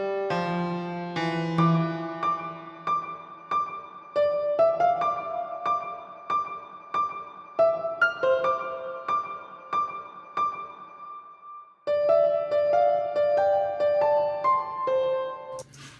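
Soloed piano part from a song, a steady run of bright sustained notes and chords with a short gap near the end before the playing resumes, close and clear with no voices.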